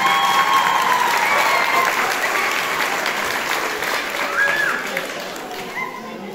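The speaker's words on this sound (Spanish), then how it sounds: "Pedimos estos fuertes aplausos para Faustino Velasco Sánchez y Cruzanta Solís García." Sustained applause from an audience at a quinceañera celebration, dense and steady clapping throughout that tapers slightly toward the end, with a few voices faintly audible beneath it.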